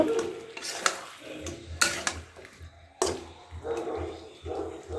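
Shankar fish is stir-fried in a pan, with intermittent spatula scrapes and clanks against the pan over a low sizzle, near and uneven.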